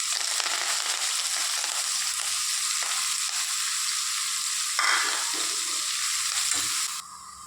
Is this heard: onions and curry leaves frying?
yes